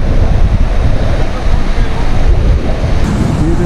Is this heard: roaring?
yes